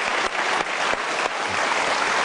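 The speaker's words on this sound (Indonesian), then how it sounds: "mari kita berikan tepuk tangan untuk Vincent dan Desta" An audience claps steadily for Vincent and Desta at a televised anniversary show, a dense, even burst of applause filling the room.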